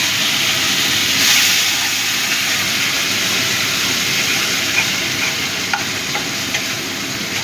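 Spice masala sizzles loudly in a pan after dal water is added, a dense steady hiss and crackle close up with a few faint scrape ticks of stirring.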